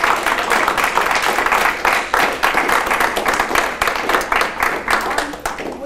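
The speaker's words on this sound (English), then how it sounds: "Can we all give another round of applause for Kelly for not only being awesome" Audience clapping for a reporter, a round of applause with distinct, fairly rapid individual claps, steady and close, with some talk mixed in.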